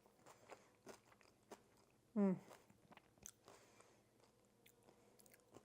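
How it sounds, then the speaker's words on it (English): A single loud crunchy bite of stovetop mac and cheese near the mic, with soft chewing and small clicks before and after. "Oh, you hear that crunch?"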